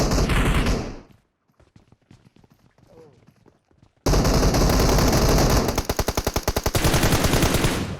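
Gunfire from a PUBG Mobile match against bots, with dense, loud bursts of rapid shots at the start and again in the second half, around a quieter stretch of scattered game sounds.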